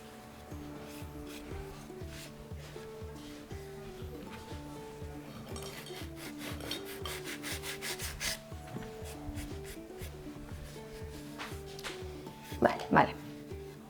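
Fine, soft sandpaper rubs across a ceramic pottery piece in a pottery workshop, a faint scratchy texture under ongoing conversation, with a couple of brief clinks near the end.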